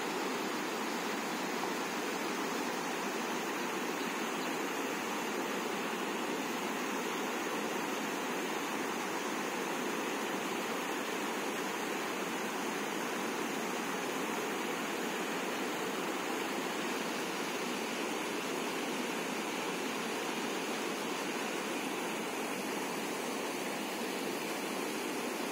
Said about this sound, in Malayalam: മഴയൊക്കെ പെയ്ത് മലയിൽ നിന്ന് ഇറങ്ങി വരുന്ന വെള്ളമാണ്